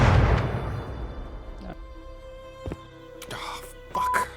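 Shotgun blasts boom in Rust, first a heavy shot that decays slowly, then several sharp, separated reports a second or so apart, fairly close, with some talk mixed in.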